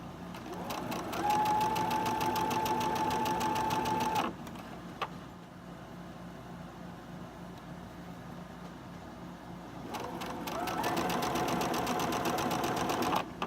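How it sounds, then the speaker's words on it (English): A sewing machine chain-stitches Halloween sew-along pieces in two close, steady runs with a quieter lull of faint mechanical hum and a click between them. "chain stitch this since I have to do 2 of them"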